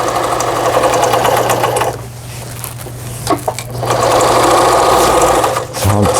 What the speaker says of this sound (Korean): 브라더 미싱에서 판매한 프레스티지 10